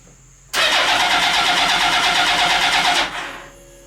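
A mini trophy truck engine cranks continuously for about two and a half seconds at its first start-up, with the clutch held in, loud and close, then the cranking dies away without catching.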